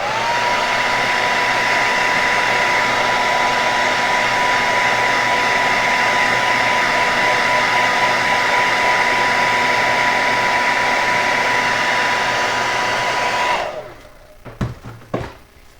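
Heat gun warming a square-bill crankbait to set a scale pattern, a loud steady blowing whir with a faint whine that holds for about thirteen seconds, then cuts off into a few light clicks and taps.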